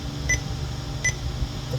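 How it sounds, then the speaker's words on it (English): Two short, faint electronic beeps from a Soundstream VRCPAA-70MW car stereo during power-up testing sound about three-quarters of a second apart over a low background hum. "That is annoying, the beeping there, isn't it?"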